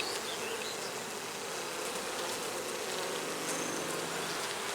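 Honeybees hum steadily over open hive frames during a walk-away split, a dense continuous buzz holding close and even throughout with no voices.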